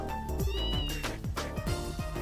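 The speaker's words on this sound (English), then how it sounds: "I forget what that means in cat talk" A cat meows repeatedly in the video game Trails in the Sky, with several clear, loud meows that bend in pitch over a continuous musical background.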